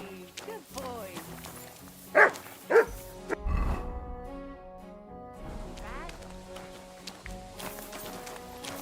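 Dog barking in the medieval game Kingdom Come: Deliverance 2, a couple of loud sharp barks near the middle, with game music, hoofbeat-like clatter and background noise around them.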